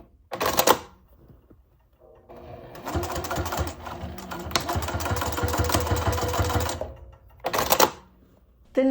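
A sewing machine runs in a continuous burst of several seconds, stitching a shoulder bag, bracketed by short sharp mechanical clicks and clunks before and after the run.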